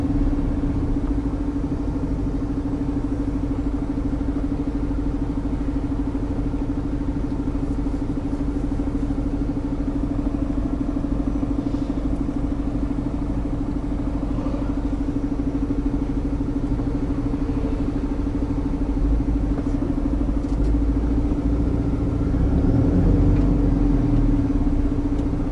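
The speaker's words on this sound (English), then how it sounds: "Truck's gearbox really isn't very helpful for slow crawl traffic like this" A UK truck engine idles and crawls in slow stop-start traffic, a steady low drone with a constant mid hum running unbroken throughout, close and fairly loud with no voices.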